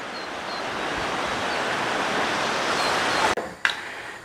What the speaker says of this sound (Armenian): ահա այս ջրի վրա պարզ երևում է անձրևի ուժգնությունը։